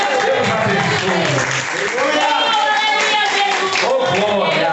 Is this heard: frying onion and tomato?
no